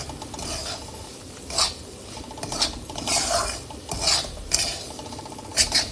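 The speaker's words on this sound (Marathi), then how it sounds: "हा छानपैकी आपण भाजून घेणार आहोत या तुपामध्ये।" Semolina roasting in about a quarter cup of ghee in a pan over low heat, a steady scraping and stirring with regular spoon-on-pan strokes over a faint continuous sizzle, close and alone.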